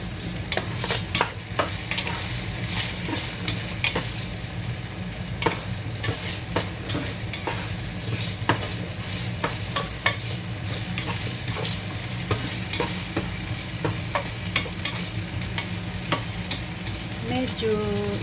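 Potato pieces fry in a pan for a simple chicken curry, with a steady hissing sizzle and repeated scraping and clinking stirs throughout. The sound is close and continuous, with no talking.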